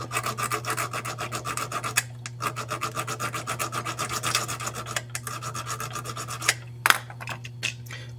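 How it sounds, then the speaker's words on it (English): A small flat file scrapes a drilling burr off a copper ring in quick, steady back-and-forth rasping strokes, heard close, with brief pauses near two and five seconds and a faint low hum underneath. "with that burr facing up, use the little flat file to get rid of it."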